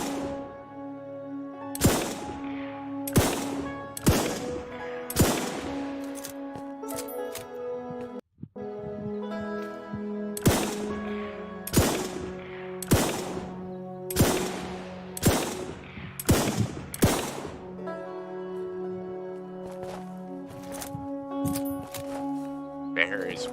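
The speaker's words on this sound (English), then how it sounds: "I won with the repeater rifle." A repeater rifle in the Alaska Gold Fever game fires at a bear, giving a steady series of sharp, loud single shots about a second or two apart, each with a short ringing tail.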